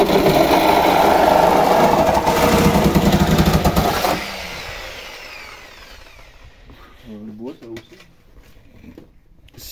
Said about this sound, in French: scie sabre. Lame à bois.